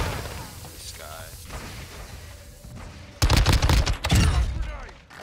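Rapid automatic gunfire from a Modern Warfare 2 match bursts loudly in the second half, dense and sustained, while players talk over the game in the first part.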